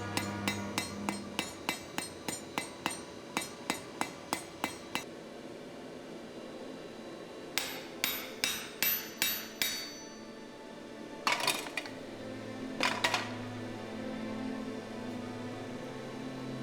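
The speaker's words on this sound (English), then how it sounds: "I found a round bar in my cutters, for which I'm now quickly forging ahead" Blacksmith's hammer forging a round steel bar for a tong rivet, a fast run of sharp ringing blows followed by slower, spaced clusters of strikes with pauses between, close and clear with no talk.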